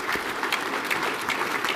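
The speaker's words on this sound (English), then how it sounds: "Let me give everybody a clap of hand." An audience at a NATO military forum on landpower breaks into applause, a dense, fairly loud run of clapping with no talk over it.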